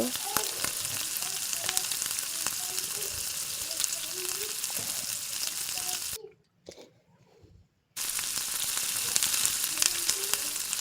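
Cut potato chops frying in hot oil in a wok give a dense, continuous close sizzle with small crackles and pops; the sound drops almost to silence briefly partway through, then resumes at full strength.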